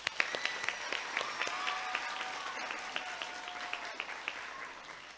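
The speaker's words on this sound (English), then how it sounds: "A round of applause." Faint applause rises from an audience at an elementary school ribbon cutting ceremony, steady scattered clapping heard from a distance in a large space, with no one speaking over it.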